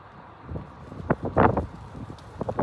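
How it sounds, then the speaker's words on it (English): Gusts of wind buffet the microphone in uneven bursts, producing rough low rumbles and thumps that swell and fade over a few seconds. "It's pretty windy out here."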